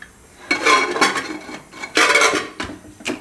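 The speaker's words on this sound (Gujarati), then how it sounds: "કુકરનું ઢાંકણું બંધ કરશું" A metal pressure cooker lid is fitted and closed on a kitchen gas stove, with two bursts of grinding, scraping metal and a few lighter clinks, close and fairly loud, with no voices.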